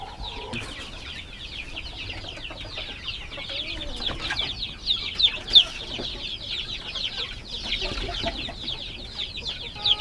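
Week-old heritage chicks in a new brooder house peck at crumble feed, keeping up a constant stream of high, close peeping chirps and soft clucks with no pauses.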